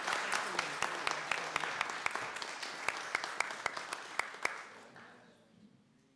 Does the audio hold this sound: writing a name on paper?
no